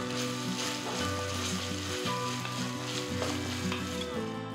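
Onion with ginger garlic paste frying in oil for a Hyderabadi dalcha, a steady loud sizzle with stirring running the whole way, no voices.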